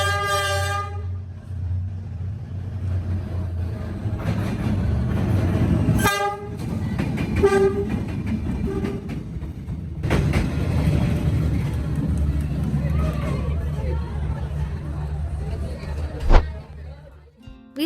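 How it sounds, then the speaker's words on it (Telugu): A train rumbles past at very close range along a narrow residential street in Hanoi, Vietnam, its horn blaring loudly at the start and again mid-passage over a heavy, continuous roar of wheels and carriages, with voices faintly audible. "నిజంగానే ట్రైన్ చాలా దగ్గర నుండి పాస్ అవుతుంది."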